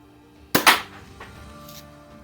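A single shot from a cheap BB gun, a Daisy 188 or Healthways Plainsman 9401, gives a sharp close crack followed by a brief rattle and faint aftersound against a quiet background.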